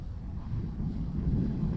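Strong gusting wind buffets the microphone at an RC airfield where an E-flite Cherokee model plane is landing, a steady low roaring rumble that swells and rolls throughout, loud and close with no voices.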